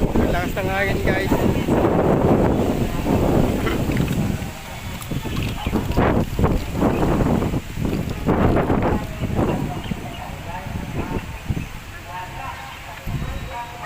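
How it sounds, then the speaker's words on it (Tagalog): Strong sea wind buffets the microphone at Oval Plaza in General Santos, a loud, gusty roar that rises and falls with faint voices mixed underneath. "Ang lakas ng hangin guys."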